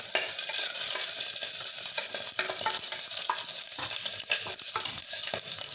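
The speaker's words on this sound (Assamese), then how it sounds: "তেলখিনি গৰম হোৱাৰ পিছত এয়া কেঁচা জলকীয়া, তেজপাত, জিৰা আৰু শুকান জলকীয়া দি দিছোঁ" Green chillies, bay leaf, cumin and dry red chillies sizzling in hot oil in a pressure cooker, a loud continuous crackle and hiss with scattered sharp pops and occasional scraping clicks, with nobody speaking.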